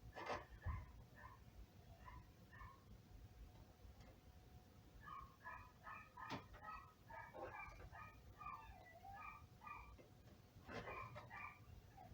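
Faint, distant dog barks and yips come in scattered clusters over quiet background noise.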